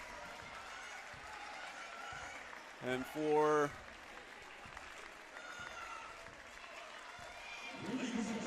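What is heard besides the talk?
basketball crowd applauding the home team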